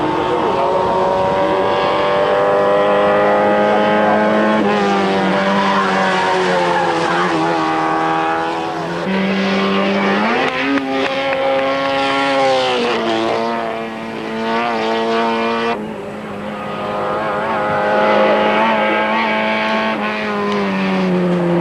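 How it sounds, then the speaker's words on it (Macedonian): Zastava 101 race cars climb the Vodno hill-climb course in 1992, engines revving loudly and steadily with rising and falling pitch as they pass close by, filling the whole stretch with no pauses. "Сречко Димитровски од Машинец имаше некоја верзија на застава 101, беше упорен кога требаше да се обезбеди учеството во оваа трка"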